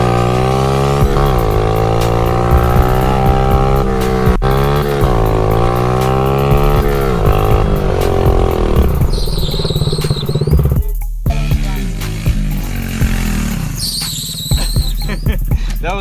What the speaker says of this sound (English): That was the brake squeal and not the tires.